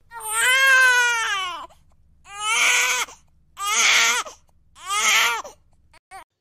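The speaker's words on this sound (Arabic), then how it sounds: "سمعوا صوت بكاء" Infant crying in four long, loud wailing bursts separated by brief gasping pauses, close and clear, with a short faint whimper at the end.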